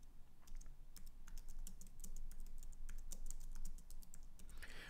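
Rapid, irregular keystrokes on a computer keyboard while C++ code is typed, close and clear over a low room hum, with a brief burst of brighter noise at the very end.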